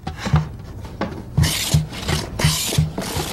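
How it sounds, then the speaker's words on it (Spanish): Cedar boards for a cajon are planed by hand in repeated rasping strokes, about six scraping passes, each with a low knock, close and fairly loud, with no talk. "Se cepillan los dos lados de la madera,"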